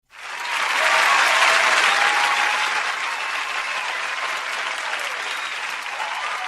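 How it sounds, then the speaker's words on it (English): Long, steady applause from an audience closing a podcast interview, loud and sustained throughout, easing slightly after the first few seconds but continuing without a break. "These applause will keep going as long as I know it keeps going"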